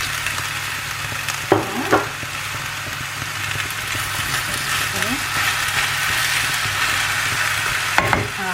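Chopped yellow pepper and sliced courgette sizzle in a hot pan with a steady, close frying hiss. A few brief clatters of stirring break through at the start and near the end.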